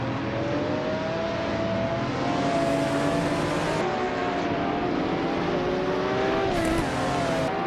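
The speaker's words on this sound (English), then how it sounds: "the race just kicked off at the Kazan Ring, and Scott Dixon is starting on pole" Race cars in a racing video game launch at the start of a race at the Kazan Ring, including a 1994 Toyota Supra: a dense, loud roar of several engines revving and rising in pitch together, with no talking.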